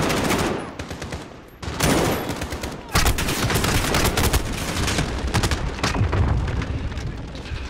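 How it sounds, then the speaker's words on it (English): Enemy machine gun fire in Call of Duty: Modern Warfare, rapid close bursts of automatic gunfire rattling almost nonstop, broken by a couple of brief pauses, with heavy booming shots among them. "I need to find out where that MG was."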